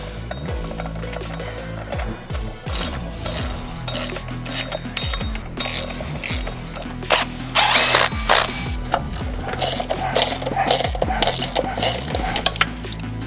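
A socket ratchet tightening E14 bolts on a rear-wheel-drive Integra build with a K24 engine gives repeated clicking pawl strokes, steady and close, with occasional brighter metallic clinks and rattles mid-way.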